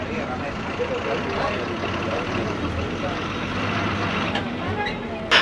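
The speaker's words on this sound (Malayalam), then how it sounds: "മായാർക്കുള്ള ബസ് സ്റ്റാർട്ടായിട്ടുണ്ട്." A TNSTC state transport bus bound for Mayar idles with its engine running, a loud steady diesel rumble with a brief louder burst at the end.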